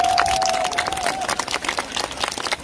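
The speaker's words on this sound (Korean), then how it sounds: "우리 도신스님 사랑하는 만큼 다시 한 번 큰 박수 보내주십시오" Crowd at an outdoor autumn temple concert at Seogwangsa in Seosan applauding the monk Doshin after a song: a dense, rustling burst of many hands with scattered cheers, opening with a brief ringing tone that fades.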